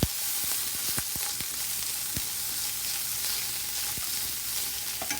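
Garlic and peppers frying over lowered heat in a pan, a soft continuous sizzle broken by several sharp clicks and taps of a utensil against the pan, with no talking.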